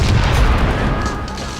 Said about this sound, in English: explosions, cannon fire, and pistol shot ripped through the night